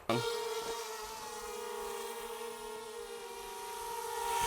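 Small propellers of a cheap $139 beginner drone in flight, a steady close buzzing whine with layered tones that holds for several seconds and swells slightly near the end.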